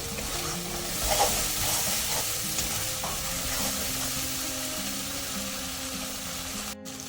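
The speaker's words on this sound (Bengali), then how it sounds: "হলুদ গুঁড়ো দিলাম, জিরে গুঁড়ো দিলাম। ভালো করে কষিয়ে নেব।" Spices with turmeric and cumin powder fry and get stirred in oil for a vegetarian potato dum: a continuous close sizzle with scraping stir strokes, one louder burst near the start, and no voices.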